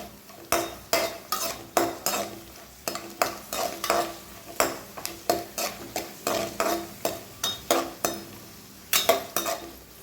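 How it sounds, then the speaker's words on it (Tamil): Nuts roast in a pan while being stirred for a Diwali somas filling, producing a steady run of sharp, rhythmic scraping and clinking strokes about twice a second over a light sizzle, close and loud, with no talking. "நல்லாவே வந்து நட்ஸ் எல்லாம் வறுபட்டு வந்துருச்சு"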